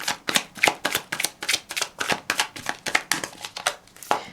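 Tarot cards are riffled and shuffled by hand in a rapid, steady run of crisp papery bursts, about three per second, close and clear with no talking.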